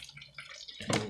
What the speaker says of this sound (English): This is where I apply the water.